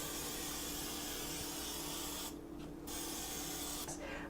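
Quiet bursts of fine spraying hiss from a pump sprayer of extra virgin olive oil, steady and close, broken by two short pauses.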